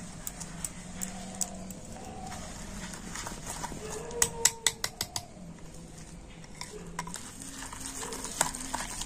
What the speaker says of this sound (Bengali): আবার আমি সবকিছু খুব ভালো করে মিশিয়ে নেব